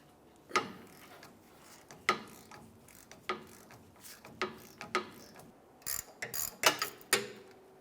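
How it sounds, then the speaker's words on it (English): A hand ratchet with a 21mm socket loosening a tie rod nut on a Jeep Wrangler, sounding as sparse separate clicks followed by a quicker cluster of ratcheting near the end, close and moderately loud. "Let's use a 21mm socket to remove this nut."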